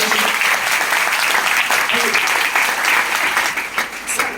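Loud, sustained applause from a large audience at a talk in Nallasopara, dense steady clapping filling the space with some voices mixed in, tapering slightly near the end.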